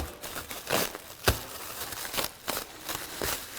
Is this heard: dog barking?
no